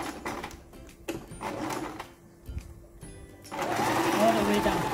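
A sewing machine stitches a small cloth purse in bursts of rapid mechanical whirring, stopping and starting, then running steadily at the end, while a person talks between and over the stitching.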